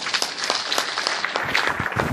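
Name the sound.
audience applause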